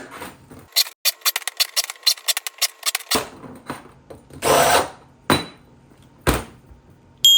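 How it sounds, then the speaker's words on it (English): Holes in a part for a C10 four-link suspension build are chamfered with a power drill in quick bursts, first short and rapid, then longer whirring runs separated by pauses. "Give these a quick little chamfer on these holes."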